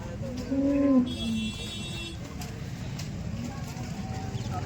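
Cow mooing at a busy cattle market, a single drawn-out low call near the start over a steady background of crowd murmur and livestock noise.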